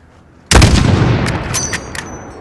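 A single loud, close sniper rifle shot in Call of Duty: Modern Warfare bursts out sharply, then rolls off into a long reverberant boom with faint debris or echo taps trailing behind.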